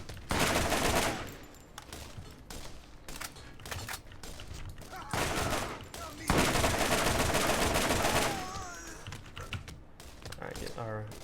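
Rapid bursts of gunfire from the video game Borderlands GOTY Enhanced, loud volleys and sustained automatic fire broken by short pauses and reload clicks, with someone talking over the shooting.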